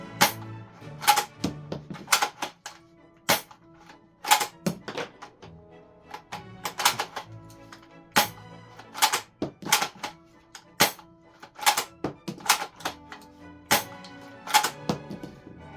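An Academy plastic toy Kar98k rifle has its bolt worked repeatedly, giving sharp close clacks and thunks as the action cycles and plastic shell casings eject and drop. The sequences come in irregular bursts over quiet gaps, with no speech.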